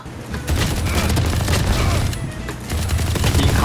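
The Ares machine gun in a VALORANT free-for-all deathmatch fires a loud, close, sustained automatic stream with heavy booming low end, pausing briefly near the end before the firing resumes.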